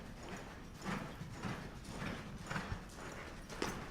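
Horse hooves clip-clop steadily at close range on a horse ranch near the state fairgrounds in Des Moines, Iowa, a walking rhythm of dull thuds with no voices.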